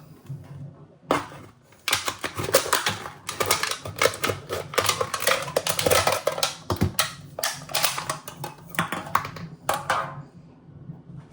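An aluminum beer can is cut open in quick, close, metallic snipping and crinkling bursts, a rapid irregular clatter lasting about ten seconds.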